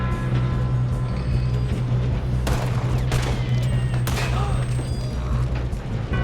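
Gunfire in Red Dead Redemption 2 cracks out as a couple of sharp shots over a steady, dense bed of background noise and low rumble, with voices faint in the mix.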